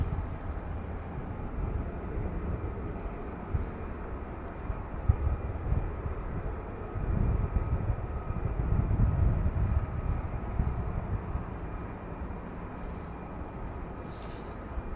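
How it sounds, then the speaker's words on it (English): Distant F-15 jet aircraft rumbling steadily near RAF Lakenheath at night, a low continuous roar that swells slightly midway and stays far off throughout. "I can hear another F-15."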